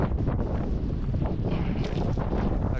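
Strong wind buffets the microphone outdoors, producing a steady, loud low rumble and roar that fills the whole stretch with no voices.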